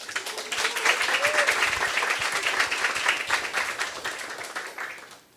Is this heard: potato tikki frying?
no